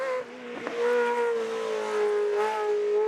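Ferrari 360 Challenge V8 race car on a racing circuit, its high-revving engine holding a loud, steady harmonic note with a brief dip, close and clear for about three seconds.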